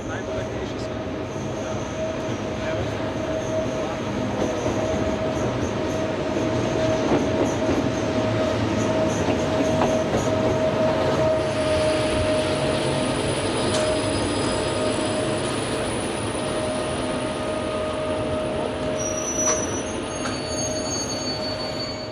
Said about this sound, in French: l'une d'elles entre en gare de Ljubljana, en tête du train Intercity numéro 503 pour Koper.